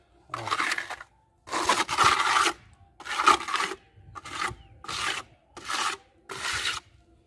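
Mortar being spread across an unplastered wall with a trowel, a series of seven rough rasping scrapes, each about half a second to a second long with brief pauses between, close and fairly loud, no talking.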